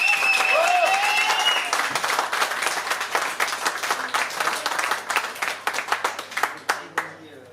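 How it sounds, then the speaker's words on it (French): Audience clapping at a live concert at La Zonmé in Nice, loud sustained applause with a few whistles early on, thinning to scattered individual claps toward the end. "je veux un maximum d'applaudissements s'il vous plaît"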